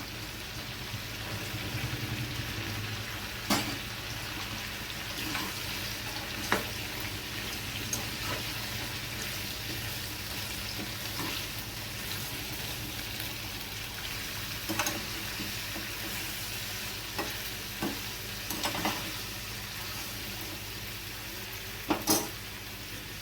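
Soaked chickpeas fry in a pan for a vegetarian papaya and coconut curry, making a faint continuous sizzle with scattered sharp clicks and scrapes of stirring throughout, no voices.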